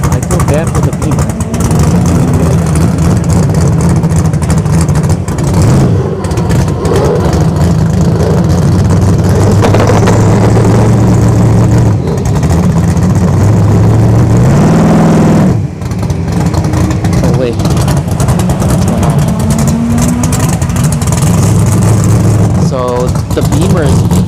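Drag strip launch of a donk car against a BMW at a test-and-tune night, loud engines revving and roaring down the track with a steady rumble, under ongoing talk from a commentator.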